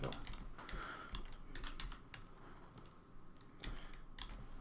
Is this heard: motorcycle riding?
no